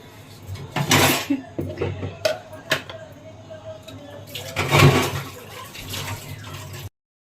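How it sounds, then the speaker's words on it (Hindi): Pots, plates and cutlery clatter and clink under running tap water as dishes are washed in a home kitchen after dinner, with irregular bursts of knocking and some faint talk. "ऐसे बर्तन धो दूँगी"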